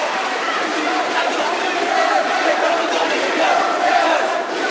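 Arena crowd at an MMA fight roars and cheers during an exchange of punches, a loud continuous wall of shouting and cheering with scattered clapping, swelling slightly, with a commentator talking over it.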